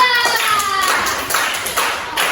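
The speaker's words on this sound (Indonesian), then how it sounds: "Tepuk tangan untuk kelompok 3" Classroom clapping for a student group, a short spell of scattered hand claps from a small group, close and fairly loud, with a voice briefly underneath at the start.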